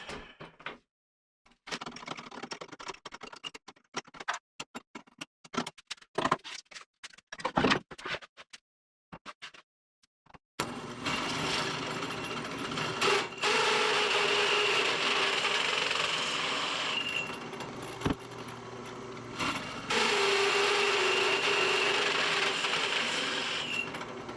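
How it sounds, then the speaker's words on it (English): Hole saw cutting into a wooden door: first ten seconds of sparse, halting bursts as the bit starts, then a sustained loud grinding whine of steady drilling with brief dips, no voices. "Now let's put in the hole saw"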